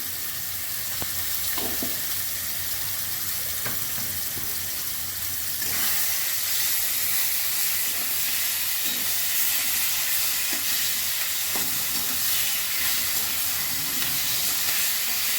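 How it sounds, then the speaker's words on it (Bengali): Taro greens seasoned with salt and ground cumin sizzle and fry steadily in a hot pan, a continuous close hiss with occasional soft stirring knocks and pops, no voices. "এবার এই শাকগুলোকে ভালো করে শুকোতে হবে"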